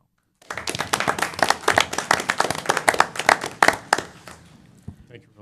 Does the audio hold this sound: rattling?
no